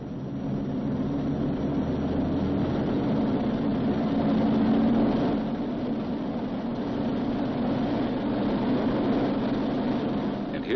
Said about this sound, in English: He releases the parking brake and adjusts the engines for full military power.